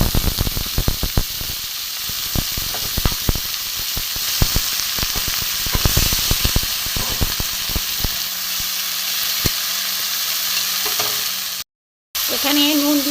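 Tomatoes and shredded cabbage fry in a pan for vegetarian cabbage roll chops, with close crackling sizzle and repeated sharp spatula scrapes and taps early on, the sizzle settling into a steadier hiss before a brief dropout.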